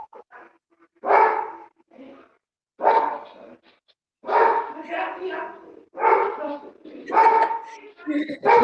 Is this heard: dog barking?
yes